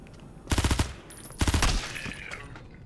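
Two short bursts of rapid P90 submachine gun fire in a video game, each a quick rattle of closely spaced shots, loud and near, followed by a fading tail with no talking.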